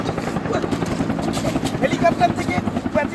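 A helicopter in flight, heard as a steady low rotor chop and engine drone at moderate distance, with voices talking over it.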